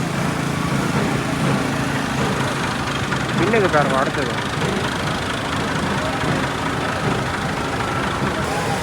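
A decorated tractor engine runs with a steady, loud diesel drone at a crowded village temple festival, while someone speaks over it throughout.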